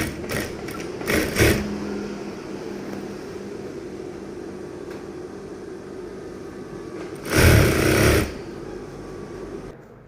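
A sewing machine stitching a tung flag hums steadily in close, with two louder bursts of faster whirring running the motor harder.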